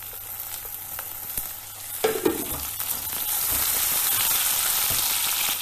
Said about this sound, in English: Cook till the tomatoes become soft.